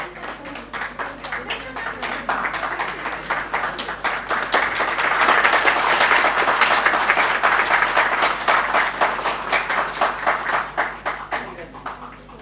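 An audience applauds at a ceremony for the first roadblock section built with technical textile geocells, with dense clapping that swells in the middle and tapers off over about twelve seconds.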